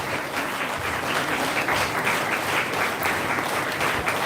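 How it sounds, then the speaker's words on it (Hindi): A church congregation applauds the bishop during a live Sunday service, a sustained, fairly loud wash of many people clapping, continuous and even throughout with no speech over it. "उनका जोरदार ताली बजाएं।"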